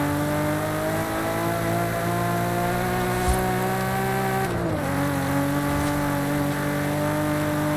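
BMW M3 Competition engine in Forza Horizon 5 droning steadily as the car picks up speed downhill, a loud sustained tone with a brief dip and shift partway through, no talk.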